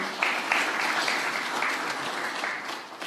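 A crowd applauds a patron at a live event: steady, dense clapping throughout with no talk on top.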